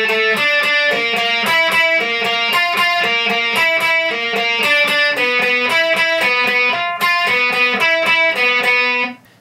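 Slow, evenly picked notes on a distorted electric guitar trace an alternate-picking lick, a steady stream of loud, close single notes shifting between strings before a brief cut-off at the end.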